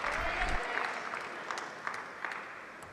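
A crowd at a Major League Table Tennis match between Seattle and Portland applauds steadily, a dense wash of clapping that slowly fades while a commentator talks over it.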